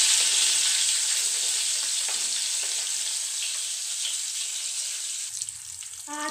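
Tempering spices and green chillies fry in about two tablespoons of hot oil, giving a loud, steady hissing sizzle that fades slightly over several seconds, with faint clinks near the end and no talking.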